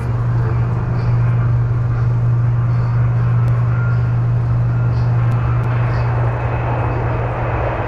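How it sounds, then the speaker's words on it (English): Virgin Orbit's Cosmic Girl carrier aircraft roars steadily as it takes off from the runway at Spaceport Cornwall, a loud, continuous, distant-sounding jet engine rumble with no talking. "Cosmic Girl is now on the runway taking off."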